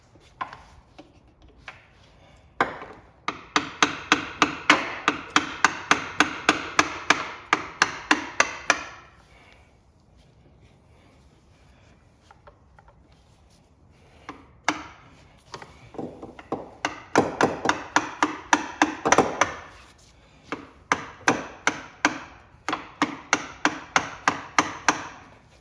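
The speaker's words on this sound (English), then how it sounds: "I'm gonna hammer a screwdriver into the filter and I'm gonna turn it." A screwdriver being hammered into an oil filter, with two long runs of loud, rapid, evenly spaced metallic strikes separated by a pause, then further bursts of blows, close up.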